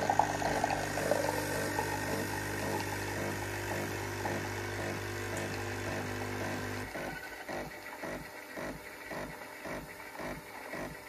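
A Nespresso coffee machine hums and pumps steadily brewing a shot, then shifts to a sputtering, gurgling rhythm as liquid flows, fairly close and continuous.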